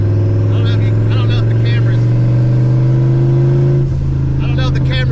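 A turbocharged Ford Fox Body with HCI engine work runs loud and close, with a steady engine drone and a rising whine. People talk over it, and the drone briefly dips and picks back up.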